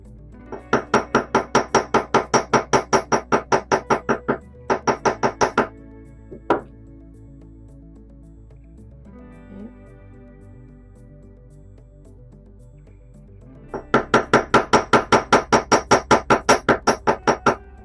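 Rapid, evenly spaced metallic hammer taps on gold-filled wire come in three bursts, with a quiet stretch of soft handling noise between them.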